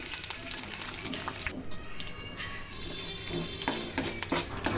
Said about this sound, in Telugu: ఇప్పుడు స్టవ్ వెలిగించి ప్యాన్లో ఆయిల్ వేసుకొని తాలింపు సరుకులు అయితే వేసుకుంటున్నాను